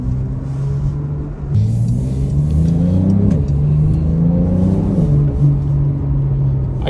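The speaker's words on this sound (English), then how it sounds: "But the Turbo S, well, actually I'm very surprised at how well it drives." A Porsche 911 Turbo S drives with a loud, close engine note that climbs in pitch as it accelerates, drops at each gear change and then climbs again, with no talking.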